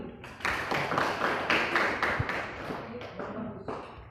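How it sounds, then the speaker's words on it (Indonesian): Students in a classroom clap their hands, a brief round of quick, uneven, close claps that builds and then trails off over about four seconds. "Tepuk tangan dulu."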